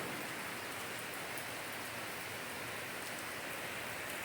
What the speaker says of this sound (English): Lots of rain. We live in a temperate rainforest here.